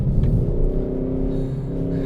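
Inside a moving 184-horsepower Volkswagen Golf in sport mode, an artificial engine hum swells slightly as if revving, a constant low rumble with a droning tone throughout.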